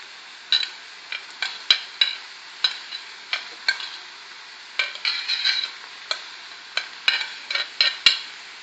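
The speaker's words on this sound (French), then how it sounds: "Je remue et laisse cuire quelques minutes" Bell peppers fry with minced meat, salt, pepper and cumin in a pan while a utensil taps and scrapes steadily, a regular run of sharp close clicks over a light continuous sizzle.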